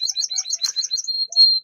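Japanese sparrows and other small finches in an aviary chirp rapidly and close by, a dense run of high, bright tweets ending in a longer sustained whistle.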